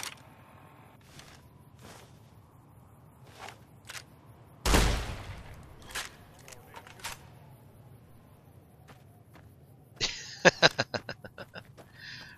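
Gunfire in Fallout New Vegas: a single loud blast cuts through quiet background, then a rapid string of about six sharp shots rings out near the end.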